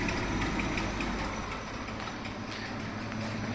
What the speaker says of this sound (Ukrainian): Мотор-компресор працює чудово, тихо.